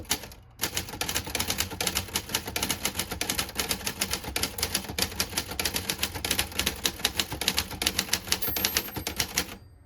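Rapid, steady typing on a 1950 Everest Model 90 manual typewriter, with dense clacking keystrokes and a soft, plodding feel, continuing close and loud for almost ten seconds with no talking.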